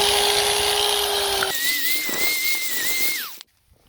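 Power drill breaking out old cement around a garden gate post, a steady high whine that shifts pitch midway, runs continuously for a few seconds, then stops suddenly.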